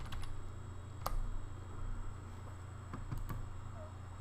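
Scattered keystrokes on a computer keyboard, a few sharp isolated clicks spread over a few seconds above a low steady hum, fairly faint.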